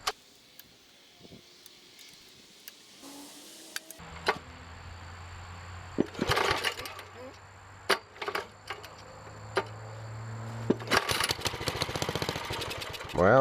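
A cold Kohler engine on a Wheel Horse 704 garden tractor is pull-started by its worn recoil starter, with several short rope-pull bursts and sputtering catches rising to a rough run near the end, over a quiet background.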